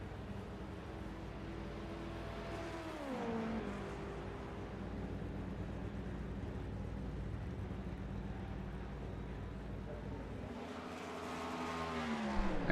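Race car engines in the pit lane at Suzuka in iRacing, with hypercars idling and revving; pitch sweeps and drops around the third second, a continuous drone follows, and the engines rev up again near the end.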